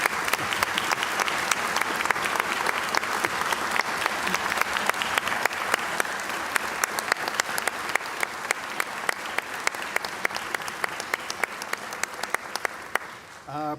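An audience at a State of the State address claps steadily for several seconds, a dense, even wash of applause from a large crowd in a hall, ending with a brief voice at the close.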